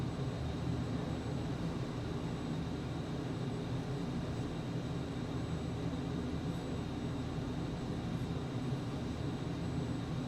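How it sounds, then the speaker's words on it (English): Steady aircraft engine roar and rushing air from a plane on approach and landing in Microsoft Flight Simulator, a constant broadband drone that holds level throughout, with no voices. "You're going to use up the entire runway again, Tom."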